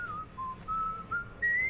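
A character whistles in Shadows Over Loathing, a clear, short tune of several sustained notes rising and falling alone over quiet background.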